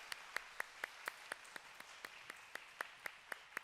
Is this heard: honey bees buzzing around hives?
no